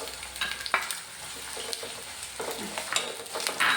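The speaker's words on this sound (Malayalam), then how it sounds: "നല്ലപോലെ ഒന്ന് വഴറ്റിയെടുക്കാം." Ginger, curry leaves and onions sauté in a pan with a continuous loud sizzle and occasional stirring scrapes, heard alone without talk.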